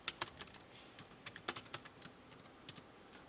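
Computer keyboard keys tapped in quick, irregular bursts while entering two-line cell text in an Excel spreadsheet with Alt+Enter; crisp, close clicks alone over a quiet background.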